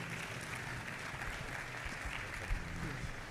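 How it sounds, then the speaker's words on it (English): Audience applause at a public engineering lecture on artificial intelligence, a steady, fairly faint patter of clapping with no clear pauses and a faint voice underneath. "Another round of applause"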